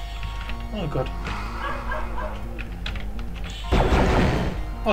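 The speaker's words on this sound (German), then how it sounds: "Der Hund draußen ist aber auch schon ganz schön hier, ne?" A dog barks and whimpers in short repeated bursts outdoors, mid-distance, under steady talking and computer keyboard typing, with a louder noisy burst near the end.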